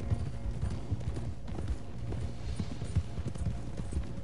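Horse hooves clip-clop steadily at a walking pace in a video game, with soft, regular thuds under a low background rumble and no talk.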